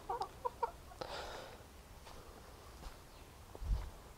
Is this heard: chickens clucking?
yes